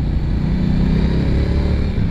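Triumph Bonneville T120 motorcycle engine droning steadily while riding, a continuous close low rumble with wind mixed in and no speech.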